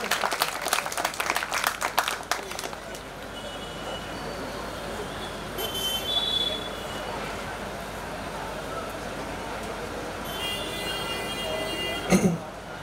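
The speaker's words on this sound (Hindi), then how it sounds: "एक बार इनके लिए तालियां हो जाएगी" Audience applause at a cyber crime awareness talk in Nagpur, a short crisp burst of clapping at the start, then low hall noise with some background rumble.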